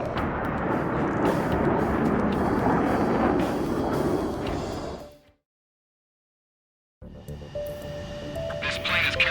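Airplane engine from the Ace Combat 7: Skies Unknown video game, a loud, steady roar that swells, cuts out for about two seconds of silence, then returns with some higher-pitched tones.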